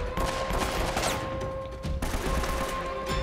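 Rapid bursts of gunfire in the Uncharted: Drake's Fortune video game, sustained automatic shots crackling over a steady background hum, with a brief pause and sharp break before the firing resumes.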